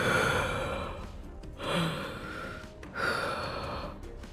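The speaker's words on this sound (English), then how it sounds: "She sounds like she's yawning" Breathy, drawn-out yawn-like exhalations from a female character in the game Goddess of Victory: Nikke, three soft sighing swells rising and fading in close succession with no talk over them.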